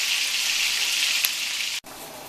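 Small meatballs fry in a hot pan while cooking pasta sauce with green peppers, giving a steady, dense sizzle that holds close and even, briefly cuts out near the end, then resumes.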